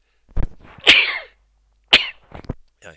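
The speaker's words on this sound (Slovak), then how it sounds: "Počkajte, musím si kýchnuť." A person lets out loud, close sneezes in two sharp bursts about a second apart during a math lesson, with brief breathing sounds around them in an otherwise quiet room.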